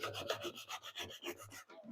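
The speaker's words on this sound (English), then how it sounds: "And then we're going to sand this smooth." Rhythmic back-and-forth sanding strokes smoothing wooden dowels flush, close and steady, about a dozen passes before stopping.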